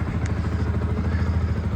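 A 2015 Yamaha YZF R125 125cc motorcycle engine on its stock exhaust idles with a steady, even low-pitched putter and a faint mechanical clatter, recorded nearby.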